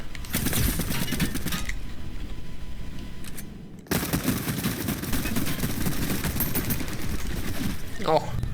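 Rapid, dense bursts of Fortnite gunfire crackle almost continuously, loud and close, with a brief lull midway before the shooting resumes.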